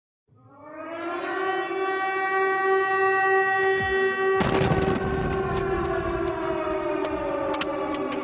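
An air raid siren in Dnipro wails loud and sustained, fading in then holding a steady rising-and-falling tone, with a sharp thud or bang partway through and faint background rumble beneath.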